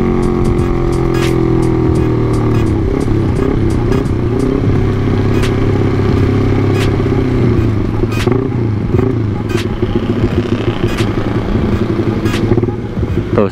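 Honda CB150R motorcycle engine running loud and close, its pitch climbing and dropping through several gear changes with steady clattery roar throughout.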